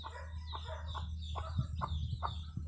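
Backyard chickens with a brood of five newly hatched chicks, hens clucking in a steady rhythmic series of short calls close by, over a low constant hum with no talk.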